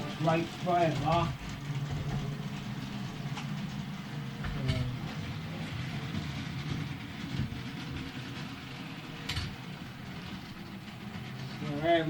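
A model train runs along its track with a steady, low mechanical rumble and faint rhythmic clicking, fairly quiet and continuous throughout.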